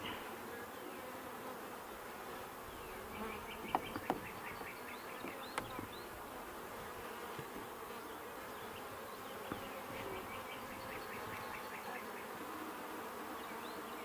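Honey bees drone steadily around an open hive box full of brood, with a few large drones among them. The buzzing is a faint, continuous hum broken by a few small clicks and knocks.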